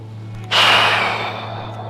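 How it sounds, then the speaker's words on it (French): Slow breath drawn in through the nose and let out through the mouth during a beginner Tai Chi and Qigong warm-up, a close, airy rush that swells suddenly and then fades gradually over a steady low hum. "On inspire par le nez, on expire par la bouche."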